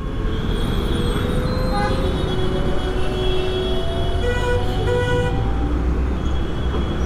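Dense road traffic roars around a rider on an Ather 450X electric scooter on Mahatma Gandhi Road, with several car horns tooting in short bursts and longer blasts, near and loud over constant engine and road noise.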